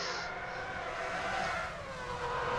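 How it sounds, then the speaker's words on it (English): Engine noise from a Formula One car in the F1 2006 racing video game at the European round, Felipe Massa's engine failing; a steady, loud motor drone runs throughout with a shifting whine and no talk. "That is an engine failure for Felipe Massa."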